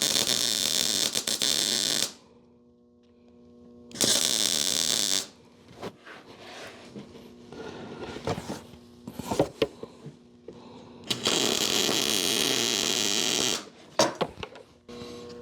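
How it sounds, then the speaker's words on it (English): Electric welding on a steel car rim being adapted for a bicycle, a harsh crackling buzz in several bursts of a few seconds each, with quieter clanks and handling noises between the welds. "All right, we'll weld it all the way around"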